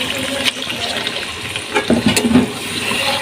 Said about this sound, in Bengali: এবার আমি এখানে অল্প একটু জল দিয়ে দেবো।